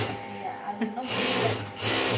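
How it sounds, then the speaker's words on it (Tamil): Domestic sewing machine stitching at home, a close whirring motor that runs in short bursts then steadies into a continuous rattle, with people talking over it. "எங்கள் அம்மா வந்து தைச்சிட்ருக்குறாங்க"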